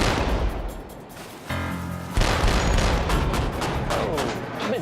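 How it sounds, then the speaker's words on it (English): Warship deck gun firing at a floating target in open water, heard as heavy booming reports over a constant roar of wind and engine noise, with a short buzzing tone in between. "The gun is hitting its mark, but the killer tomato is a resilient target."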